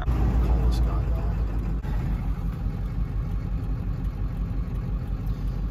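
Diesel pickup truck engine idling at the roadside, a steady low rumble throughout with road noise and voices talking over it.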